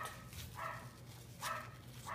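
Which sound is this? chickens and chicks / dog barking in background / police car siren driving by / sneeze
dog barking in background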